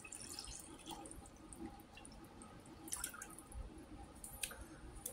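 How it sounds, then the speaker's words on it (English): Water runs and splashes into a cooking pot while chicken noodle soup is being made, a faint, uneven trickle with small drips and clicks and no talking. "In goes the water."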